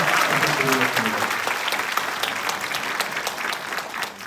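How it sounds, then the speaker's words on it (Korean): Applause from a crowd at a Reform Party rally in Korea as guests are introduced: dense, sustained clapping that starts loud with a voice briefly over it, then gradually thins and fades toward the end. "큰 박수 부탁드리겠습니다"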